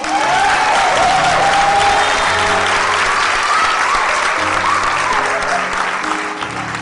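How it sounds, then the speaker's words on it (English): Steady, dense applause from an audience at a community festival stage production, a continuous wash of clapping with scattered cheers that holds strong before easing slightly at the end. "Let's give them another round of applause."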